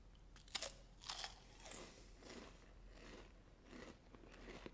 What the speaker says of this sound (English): And the wafer twig is really crunchy.